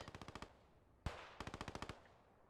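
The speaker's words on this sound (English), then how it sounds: "You can see shots going out already and hear the gunfire." Rapid bursts of automatic video game gunfire, two quick strings of shots split by a single louder blast, faint and somewhat distant.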